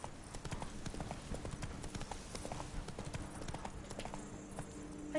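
Horse hooves clip-clop steadily through The Witcher 3: Blood and Wine, a continuous brisk trotting rhythm at moderate loudness over a busy ambient game backdrop.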